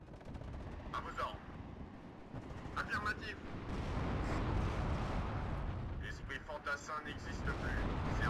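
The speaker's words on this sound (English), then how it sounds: "So we'll hit that with our artillery" Artillery fire in the war strategy game WARNO, a steady low rumble of distant booms and rolling explosions with scattered crackling gunfire, quiet under a voice talking.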